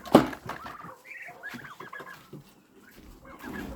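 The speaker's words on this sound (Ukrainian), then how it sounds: "О, кури зайшли, треба виганяти курей." Chickens clucking nearby in short, uneven bursts, with a sharp squawk at the start and scattered throaty calls afterward.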